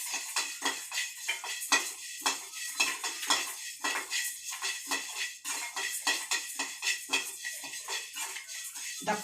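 Urad dal being dry-roasted in a heavy-bottomed pan with a long ladle: repeated clinks and scrapes of metal stirring against the pan, with faint rattling of lentils, moderately close.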